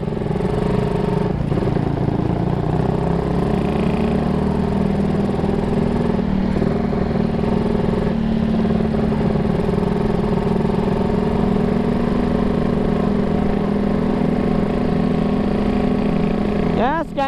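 A radiator-cooled motorcycle engine runs close by with a loud, steady, humming drone for the whole stretch, holding an even idle with only slight variation and a brief change right at the end.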